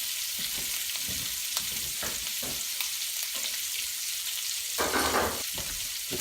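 Fat browns in a hot pan for gravy with a steady, close sizzle and occasional louder crackles as it is stirred.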